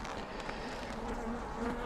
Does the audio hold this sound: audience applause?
no